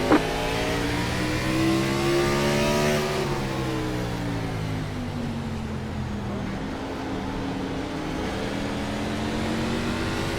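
Race car engines roar in iRacing at Martinsville, one steady whine sweeping upward as it revs, dipping and then holding a continuous drone, loud and close throughout.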